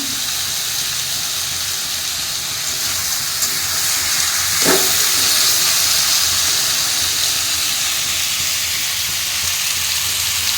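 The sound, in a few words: food frying in a pan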